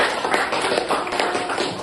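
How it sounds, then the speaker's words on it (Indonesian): A school class in a coding and artificial intelligence lesson claps for Reno, a brief burst of dense, fairly close hand claps that keeps going for a couple of seconds with no talk over it. "tepuk tangan buat Reno, bisa?"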